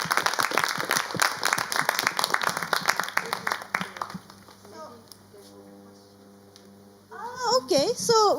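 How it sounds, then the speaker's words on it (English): An audience applauds the speakers at a speech event, a burst of many hands clapping for about four seconds that fades out, followed by quieter room tones and then a voice speaking near the end. "let's give a big applause to all the speakers today"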